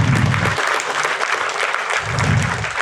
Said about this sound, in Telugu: ఆయనకు ఒకసారి చప్పట్లు కొడదాం.